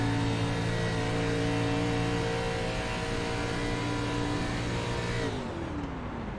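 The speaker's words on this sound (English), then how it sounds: "You can hear the engine go silent." Simulated race car engine in iRacing VR at Michigan, a steady loud drone with strong harmonic tones that suddenly drops in pitch and fades near the end as the driver lifts off the throttle to coast and save fuel.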